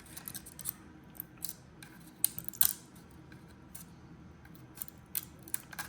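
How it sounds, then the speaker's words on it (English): Plastic support material on a 3D print peeled away by hand, giving soft scratchy rubs and crackles with a few sharper tearing snaps close by, without any talk. "Just trying to peel it away. Nothing really snapping here. It all just kind of peels away."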